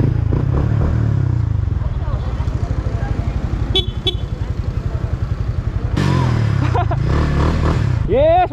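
A Yamaha MT-15 motorcycle rides at a Pangasinan beach resort, its engine droning steadily close by with a brief horn toot, while people talk and shout over it.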